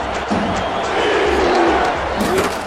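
Football crowd of Mauler fans filling a Minneapolis stadium late in a rout, a dense continuous roar of murmuring voices at steady loudness.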